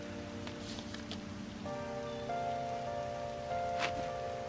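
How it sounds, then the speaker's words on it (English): Rain falls steadily in the game Persona 5, a soft continuous patter beneath calm tonal background music, with no talking. "Alright, it's raining."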